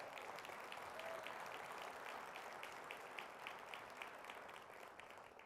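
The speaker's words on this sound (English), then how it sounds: "Let's give her a round of applause." Applause rises from an audience honoring a newly named nighttime economy manager at a downtown civic gathering, a soft, even patter of many hands that holds steady throughout and tapers slightly at the close.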